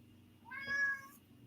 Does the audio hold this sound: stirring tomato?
no